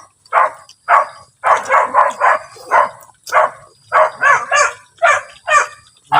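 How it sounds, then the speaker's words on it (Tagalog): A red dog barks angrily at close range during outdoor cooking, firing off about a dozen loud barks in short bursts and pairs with brief pauses between them. "Nagalit tayo ng aso"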